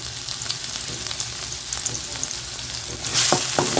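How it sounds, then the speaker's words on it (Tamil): Onions sizzle steadily in a hot pan for a capsicum egg stir-fry, a continuous close frying hiss with a few brief stirring clinks near the end. "அப்போ தான் வெங்காயம் வதங்கும் பாருங்கள்"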